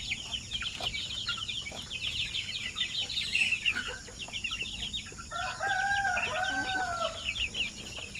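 A rooster crows loudly nearby while hens cluck steadily in the background, with no voices present.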